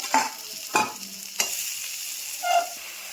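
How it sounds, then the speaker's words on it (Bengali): Cut tomatoes with turmeric powder sauté in a pan for fish-head biryani, with four distinct spatula scrapes at irregular intervals over a faint steady sizzle, close up and without speech. "কেটে রাখা টমেটো হলুদ গুঁড়ো পরিমাণ মতো ভালো করে কষিয়ে নেব"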